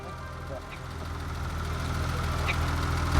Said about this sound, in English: it's a little bit tappy on the engine, but the engine's cold